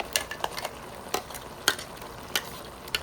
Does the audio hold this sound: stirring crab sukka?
yes